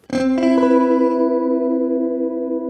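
A bright, thick, slightly detuned two-voice polyphonic synthesizer chord, struck twice in quick succession, then held and slowly fading with a slight shimmer. No voices.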